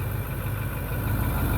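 The 6.4-litre turbo diesel engine of a 2010 Ford F250 Super Duty runs at a steady idle, giving off a continuous low rumble with a faint higher whine. The sound is close and even, with no voices.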